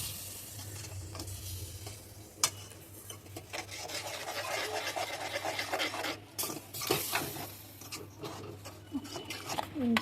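A spoon stirs and scrapes around a pot of ice cream pudding over a low gas flame, giving a continuous rasping, rubbing rhythm with a few sharp knocks against the pot and a low steady hum beneath.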